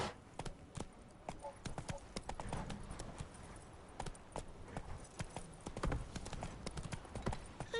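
Roach the horse gallops in The Witcher 3, a steady run of close hoofbeat clip-clops with a faint whinny, under speech and game sounds.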